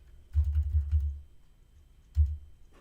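Typing on a computer keyboard: a quick run of about half a dozen soft close key taps, a pause, then one or two more taps, quiet with no talk.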